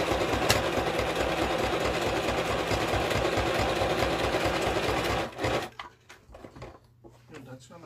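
A sewing machine stitches a zigzag pattern with a steady, rapid mechanical whir for about five seconds, then stops, leaving faint clicks and room noise.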